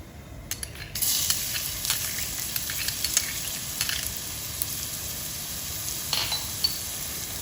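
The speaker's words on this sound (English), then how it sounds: "Let the oil heat, and now I'm going to add our chopped garlic" Chopped garlic hits hot oil in a pan with a sudden sizzle, a steady frying hiss under a few light stirring scrapes and clinks, close up and with no voices.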